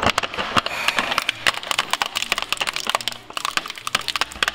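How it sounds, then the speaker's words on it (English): A turbo shredder at maximum speed grinds through a plastic toy truck, giving off rapid, irregular cracking and snapping bursts that go on continuously at close range. "Okay, so he's shredding a toy truck."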